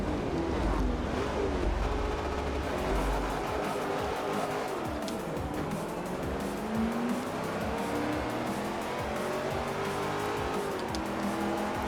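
A Chevy race car engine in Forza Motorsport 3 roars steadily and loudly throughout, with rising and falling revs, shifts and some tire squeal, nearly alone and no talking.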